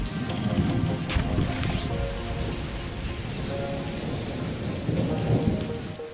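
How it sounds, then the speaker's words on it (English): Evening rain falls steadily outside with rolling thunder, a continuous patter of drops on surfaces broken by several deep rumbles, fairly close and loud, with no voices. "It is raining outside and you can see how good the climate is."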